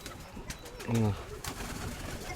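A single low pigeon coo rises briefly amid faint outdoor background noise and scattered clicks.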